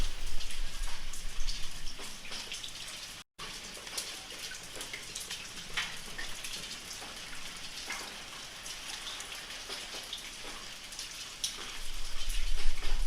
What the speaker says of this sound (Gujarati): ખાલી બસ આ થોડો વરસાદ પડે છે